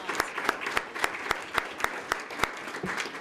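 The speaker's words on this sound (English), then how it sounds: "Let's give her a round of applause." Applause breaks out at a police department swearing-in ceremony, with sharp individual claps standing out in a loose, fairly close rhythm over the softer clapping of a crowd.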